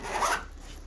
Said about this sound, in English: Zips up no problem.